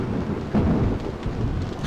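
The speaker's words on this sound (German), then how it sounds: "Boah, was ist denn das für ein Gewitter?" Thunderstorm with rain in the Die Schicksalsklinge HD video game, a low rumble of thunder swelling briefly over a steady wash of falling rain, no voices.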